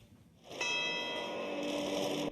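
Church bells ring in St. Peter's Square during the funeral of Pope Emeritus Benedict XVI, a faint, distant sustained peal that begins after a brief quiet moment and rings steadily to the end.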